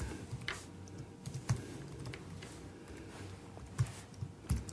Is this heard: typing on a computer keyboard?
yes